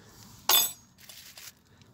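Metal camping utensils, a spoon, lighter and spanner, clink inside a saucepan in one sharp rattle, followed by a fainter jingle, close and alone.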